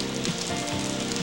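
Steady rain falling on a surface, a dense, even patter throughout, moderately loud with no voices.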